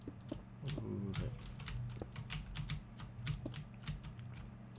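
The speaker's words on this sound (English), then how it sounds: "Sorry if my keyboard is really loud" Rapid clattering keystrokes on a computer keyboard, close and continuous with uneven rhythm, over a low steady hum.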